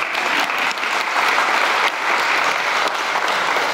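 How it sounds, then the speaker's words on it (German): An audience at a family science lecture on high-resolution light microscopy breaks into sustained, even applause, a close and loud wash of clapping hands. "da, glaube ich, dürfen wir schon klatschen"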